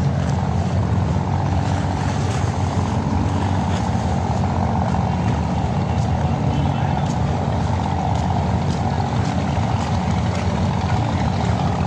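A small speedboat engine drones steadily on the water at a Dubai waterfront, a continuous loud, rough motor roar that holds the same level without pause.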